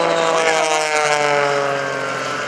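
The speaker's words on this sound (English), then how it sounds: "John Klatt inverted, Neal Darnell, the Flashfire jet truck." At an airshow, the Flashfire jet truck roars down the runway racing John Klatt's aerobatic plane flying inverted, a loud sustained engine whine with strong tonal harmonics droning steadily throughout.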